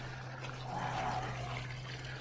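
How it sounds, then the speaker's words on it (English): Spring water running straight out of a hillside, a soft continuous trickle and splash heard up close but fairly quiet, over a steady low hum. "this water just runs straight out of the hill"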